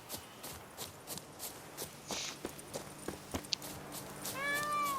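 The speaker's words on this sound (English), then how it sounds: "Apparently I heard a kitty cat in the game, that's cool." Footsteps tread steadily through the Witcher 3: Hearts of Stone game world, then a cat meows a few times near the end, soft and fairly close.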